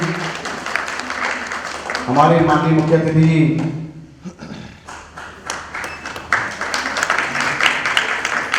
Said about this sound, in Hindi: तो एक बार जोरदार तालियां हमारे प्रोफेसर शैलेंद्र गोस्वामी जी के लिए।